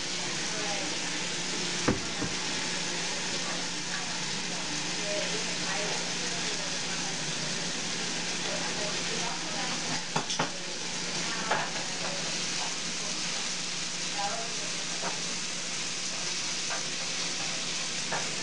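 Bacon sizzles and fries steadily in a pan while being stirred, with occasional scrapes and clatters of the utensil against the pan, a continuous close, even crackle throughout; a voice talks faintly in the background.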